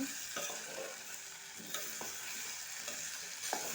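Potatoes stirred through hot oil in a pan, a continuous loud sizzle with several sharp scraping strokes of the spoon at uneven intervals, close up and with no talking.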